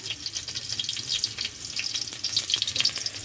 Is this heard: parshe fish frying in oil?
yes